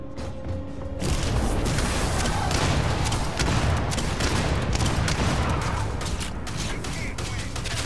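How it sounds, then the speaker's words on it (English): Video game grenade launcher fire in a confined underground area crowded with civilians: after a brief quiet start, a dense, loud barrage of blasts and crashing booms floods the scene and keeps rumbling without letup, with no talk over it. "A grenade launcher. In a confined underground area filled with civilians."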